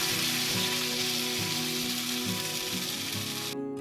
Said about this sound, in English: add the kale alfredo sauce to the pan